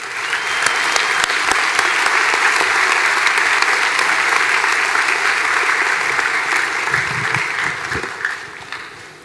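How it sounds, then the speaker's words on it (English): Loud, sustained applause from a high school graduation audience for the superintendent, a dense, steady roar of clapping that holds for about eight seconds before tapering off at the end. "please join me in a round of applause as we recognize Superintendent John Landgard"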